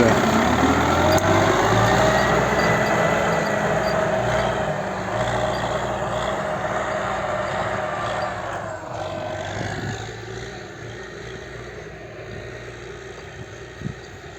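A tractor engine rumbles steadily and fairly close during barley field cultivation and sowing, a continuous low drone with a faint click, gradually easing a little in loudness.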